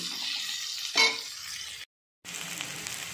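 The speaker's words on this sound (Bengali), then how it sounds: "এবার পেঁয়াজটা একটু ভাজা ভাজা করে নিচ্ছি" Chopped onion frying in a pan for a taro-stem dish makes a close, continuous sizzle, with a brief scraping stir around the one-second mark and a short break in the sound partway through.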